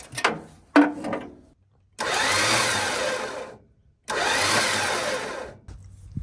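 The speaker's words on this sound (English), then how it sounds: "The engine's rotating." After a few short clunks, the starter motor of an old Mopar car left in the woods whirs twice as the engine cranks, each burst lasting about two seconds with a pause between.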